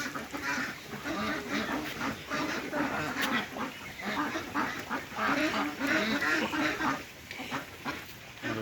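Blue Swedish ducks quack in a park enclosure, a continuous chorus of overlapping calls from several birds at moderate distance, with faint voices mixed in.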